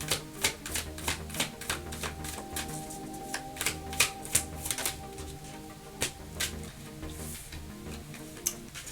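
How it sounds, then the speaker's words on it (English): Spirit Animal Oracle cards are shuffled by hand, making a run of sharp, irregular clicks and riffling taps, fairly close and clear with no voices. "I did shuffle earlier, but I felt the need to shuffle again."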